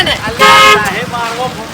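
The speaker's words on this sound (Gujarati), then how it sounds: "એને ખાલી હોર્ન મારવા દો" A vehicle horn on a road blares in a loud, sustained toot near the start, then a few shorter, fainter honks follow amid traffic noise.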